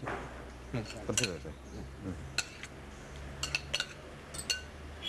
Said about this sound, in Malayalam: എന്നിട്ട് നന്നായിട്ട് ഒന്ന് മിക്സ് ചെയ്തെടുക്കുന്നു